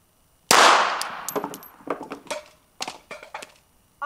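Glock 42 pistol shot at steel bowling-pin targets outdoors: a sharp report followed by a scatter of metallic clangs and rattles as the pins are struck and fall.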